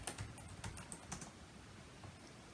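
Quiet typing of a file name on a computer keyboard, a short run of light, irregular key clicks with no talking.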